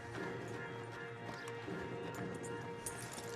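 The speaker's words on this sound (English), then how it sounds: "Marston, you're gonna tether him up to Javier's horse" Horse hooves clip-clop steadily as riders lead stallions in Red Dead Redemption 2. The hoofbeats sit in a continuous, moderately loud game soundscape.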